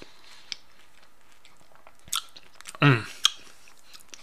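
Crunchy chocolate chip mini bar bitten and chewed up close, a few crisp crunches and soft chewing clicks spaced apart in near silence.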